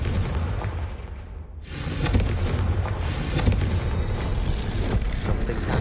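Confringo spell explosion in the Hogwarts Legacy video game, a loud booming blast that cuts out briefly and then bursts back in with a dense, rumbling roar and crackling debris.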